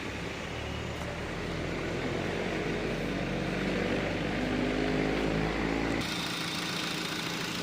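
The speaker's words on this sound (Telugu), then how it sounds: "కార్ ఇంజన్ స్టార్టింగ్లో ఉంది ఇంజన్ సౌండ్ కూడా మీరు వినొచ్చండి" A steady petrol/CNG car engine idle hums evenly for several seconds with a low rumble, then cuts off abruptly near the end, leaving quieter background noise.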